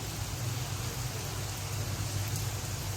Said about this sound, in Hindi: मौसम कितना अच्छा हो गया, बारिश होने लगी।